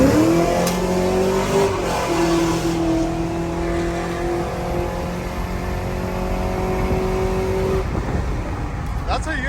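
GMC Sierra/Silverado truck with a cam and equal-length headers accelerating hard onto a freeway. Loud, near engine roar climbs through several gear pulls with a steady throaty drone, and a voice speaks briefly over it.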